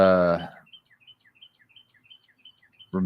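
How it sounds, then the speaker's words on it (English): Small birds chirping outdoors, faint and distant: a rapid series of short, high tweets repeating steadily in the gap between a person's speech at the start and end. "The birds are chirping today."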